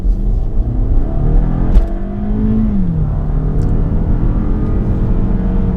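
A 2018 Toyota Camry XSE four-cylinder engine accelerating, heard from inside as a loud, steady hum that climbs in pitch, dips briefly as it shifts, then rises again smoothly.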